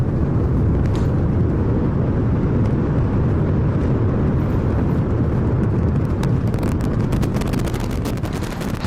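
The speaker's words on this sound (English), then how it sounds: "We have liftoff. Go Super Heavy. Go Starship." SpaceX Super Heavy booster and Starship lifting off from Pad 1, a loud, dense, continuous rocket roar with crackling bursts building toward the end.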